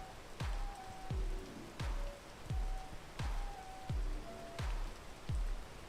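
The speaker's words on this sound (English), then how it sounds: "I should definitely wait for the rain to pass at least" Rain in the video game Peak, a steady hiss with regular low thumps and brief tones repeating about every 0.7 seconds, fairly faint and without talk.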